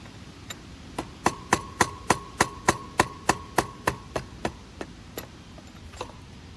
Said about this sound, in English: Use a rubber mallet and some blunt tools to drive the axle out.